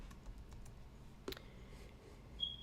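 Quiet computer keyboard typing while a search for lip balm is entered in an online design store, a few soft scattered key clicks with one sharper tap midway, no talking.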